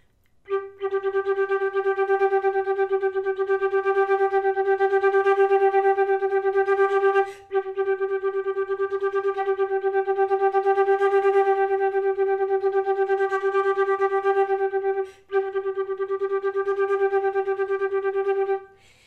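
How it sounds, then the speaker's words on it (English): A flute holds one steady note for the whole passage of a Mendelssohn Scherzo excerpt, double-tongued in a rapid even pulse, pausing twice briefly as if for breaths. "I will play the entire excerpt on that one note using my double tonguing"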